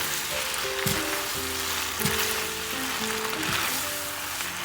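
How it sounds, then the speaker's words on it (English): Garlic butter shrimp being stirred with cilantro in a hot pan, a continuous sizzle with occasional scraping clinks of a utensil against the pan, no talking. "our last step here is just to add our cilantro and mix it all together"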